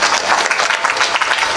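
Applause rises from a gathered crowd at a retired military man's gathering, a dense steady patter of many hands clapping at close range throughout, with no voices on top.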